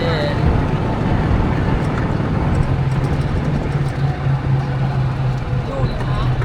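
A golf cart rolls through temple grounds near a mountain carved into a Buddha image, giving a steady low motor hum and road rumble throughout while someone talks over it.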